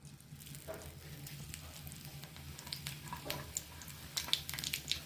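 Curry leaves drop into hot sesame oil for a tangy green chilli dish, giving a steady soft sizzle and crackle with scattered pops, close but fairly quiet, and no talking.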